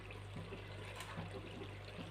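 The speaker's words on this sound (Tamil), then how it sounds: "இப்போ இதோட தண்ணி ஊற்றணும்." Water is poured into a pot of mushroom biryani, a faint, steady splashing pour that runs continuously with no talk.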